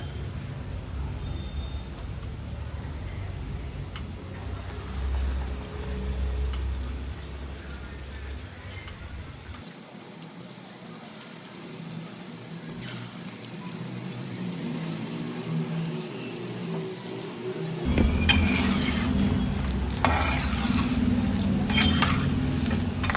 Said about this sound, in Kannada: ಎಣ್ಣೆ ಬಿಸಿಯಾಗಿದೆ ಬೋಂಡ ಎಷ್ಟು ದಪ್ಪ ಬೇಕೋ ಅಷ್ಟು ದಪ್ಪದಲ್ಲಿ ಹಾಕೊಳ್ಳೋಣ